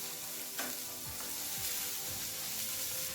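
Mixed vegetables for a stew sizzle steadily in a hot pan, a bright constant hiss with a few soft stirring scrapes, no voices.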